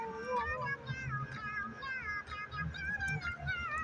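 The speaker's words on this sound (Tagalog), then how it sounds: "Meow, meow, meow, meow," A cat meows repeatedly in short, close, fairly quiet calls, each one rising and falling in pitch, over a soft background.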